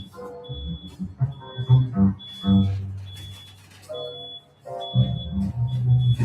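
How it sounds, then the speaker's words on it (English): A high electronic beep repeats at steady intervals, about once a second, while low engine rumbles and other background noise pass underneath. "Can you guys hear that beep?"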